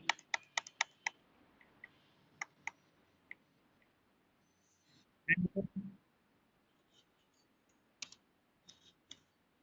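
Typing on a computer keyboard, heard as bursts of sharp clicking keystrokes with a pause in the middle, a short stretch of talk, then a few more scattered key presses.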